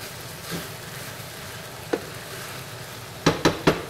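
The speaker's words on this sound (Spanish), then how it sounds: "Ya le coloqué el arroz. Y vamos a tostarlo un poco." Rice toasting in a pan gives a low steady sizzle with occasional scraping stirs, one isolated stroke and then a quick cluster of three near the end, close and with no talking.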